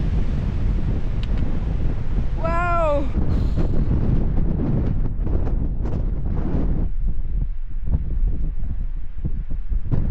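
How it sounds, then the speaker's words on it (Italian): Heavy wind on a mountain in Friuli buffets the microphone in a constant low roar, with a brief exclaimed voice partway through. "Quanto vento c'è!"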